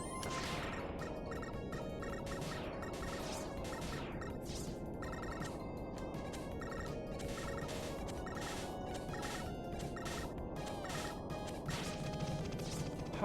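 Noise Crush weapon blasts from a Mega Man game, a rapid string of sharp crashing and whooshing electronic shots over steady game noise, fairly quiet overall with no voices.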